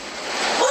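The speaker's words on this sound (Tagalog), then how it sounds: "Uy, may aso." A dog gives a brief, close yelp outdoors, partly masked by rushing broadband noise.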